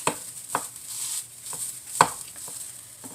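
Knife chopping a patty melt, a Taco Bell Meximelt-style sandwich, on a board in a home kitchen: a handful of sharp, separate chops spaced irregularly over a few seconds, close and fairly quiet.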